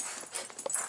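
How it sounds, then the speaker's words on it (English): Puppies whimpering and yipping outdoors on a windy day, a few short high whines and yelps against gusty wind noise. "Puppies!"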